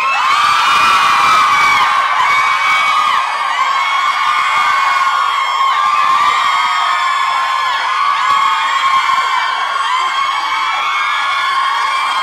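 A fan club for a singer screams and cheers at a live studio show, with a dense, high-pitched crowd of shrieking voices sustained loudly throughout.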